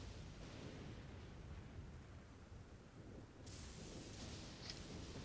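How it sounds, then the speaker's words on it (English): Thunder rumbles in the fantasy game Elden Ring, a steady low rolling roar across the whole stretch with a brighter crackling surge near the end. "That's a lot of thunder."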